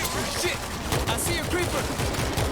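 Rapid gunfire crackles in the zombie shooter video game World War Z, bursts of shots and impacts packed into a few seconds under game noise, with no clear talk.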